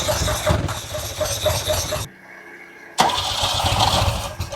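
A 1979 Ferrari 308 engine cranks with a rhythmic churning for about two seconds, falls quiet briefly, then catches and runs with a loud, steady rumble up close.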